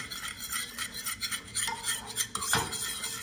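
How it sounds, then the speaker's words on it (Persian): A spoon stirs cornstarch and sugar into cold water, giving quick close scraping and clinking strokes against the container, steady and alone without talk. "یه قاشق غذاخوری هم شکر به آب اضافه میکنم حالا اینا رو کامل هم میزنم"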